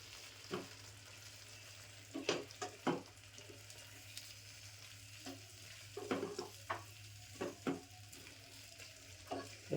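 Semolina simmers in water in a pan over low heat while a spoon stirs it steadily, giving a quiet bubbling hiss under a run of soft, irregular scrapes and taps against the pan, close by.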